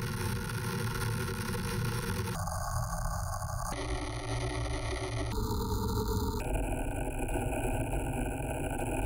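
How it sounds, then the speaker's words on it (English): Randomized noise patch built in Pure Data, with random noise triggering a sample-and-hold that samples a second noise signal: a dense, loud, continuous noise texture whose filtered color jumps abruptly every second or two, with no talking. "It triggers a sample and hold that samples a different noise signal,"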